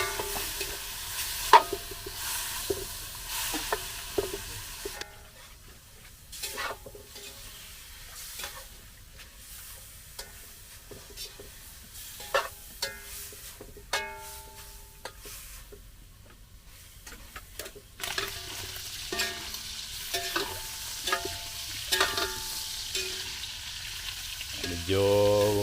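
Pork is stirred in hot oil in a pan, a soft background sizzle broken by repeated scraping and clacking of the spatula in uneven bursts, fairly close and moderately quiet.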